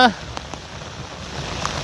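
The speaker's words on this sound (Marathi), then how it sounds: "आत्ता पाऊस वगैरे पडते" Steady rain falls in a countryside village area, a soft, continuous patter with a few faint drops and no clear voices over it.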